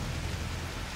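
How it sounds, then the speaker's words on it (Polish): Heavy downpour in Call of Duty: Modern Warfare 3, a dense, even roar of rain pouring down without a break, loud and close, with no voices over it. "Jakby tego było mało, kurewsko się rozpadało!"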